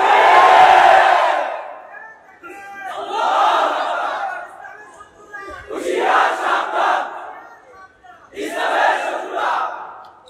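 A large crowd at an outdoor religious gathering roars a chant in four loud, sustained bursts separated by short pauses, voices massed together close and forceful.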